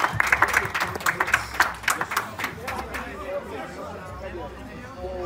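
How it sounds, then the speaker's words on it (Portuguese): Audience applause and crowd chatter at a dog breed show in Macaé, with dense clapping loudest in the first seconds, then thinning into a murmur of voices and scattered claps. "Vamos aplaudir aí, galera."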